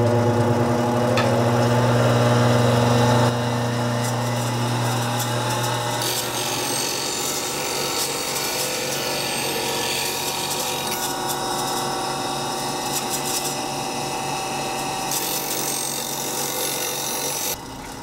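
A woodturning beading and parting tool is sharpened on a grinder, a continuous rasping, scraping grind over a steady motor hum that drops in pitch after a few seconds and then runs on.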